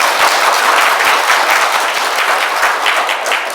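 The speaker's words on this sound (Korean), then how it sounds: "박수 한번 칠까요?" An audience at a Catholic spiritual retreat in an education hall gives loud, steady, sustained applause with no talking over it.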